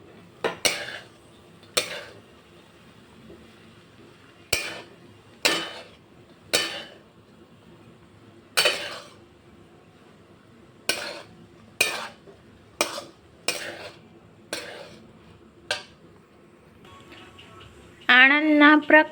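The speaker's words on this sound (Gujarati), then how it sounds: "આપણે જે મગ બાફેલા રાખ્યા હતા હવે આપણે એડ કરી દઈશું। બધું જ આપણે મિક્સ કરી દઈશું।" A metal spoon clinks and scrapes against a pan while boiled mung beans are stirred into a street-food style pulao, about a dozen sharp, spaced clanks with a brief sizzle near the end.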